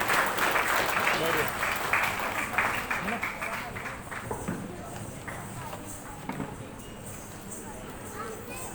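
An audience applauds to welcome a speaker at a women's award ceremony, producing a dense, continuous clatter of clapping that is loudest at the start and slowly thins, with a voice speaking over it.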